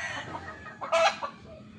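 Boston Millionaire gamefowl rooster at a game farm giving a brief burst of clucks, one sharper loud call standing out in the middle, close by.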